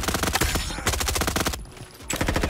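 Rapid automatic gunfire from the Roblox game Frontlines rattles in loud, continuous bursts with a short pause, close and dominant.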